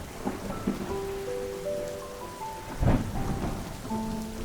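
Rain falls outside a building in Mumbai as a soft, steady hiss with a brief rumble of thunder, while faint sustained musical tones play underneath.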